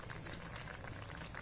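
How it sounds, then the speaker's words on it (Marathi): Sev bhaji curry simmering at a boil in a pan over a gas flame, giving a faint, steady bubbling rumble with no voices. "मिनिटात उकळी आली"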